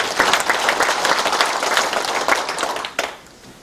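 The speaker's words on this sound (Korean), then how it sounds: "박수로 한번 화답해 주시고요" A crowd at a town meeting held by the mayor of Icheon in Jungni-dong gives a short round of applause, with dense clapping at steady volume that thins out over the last half second.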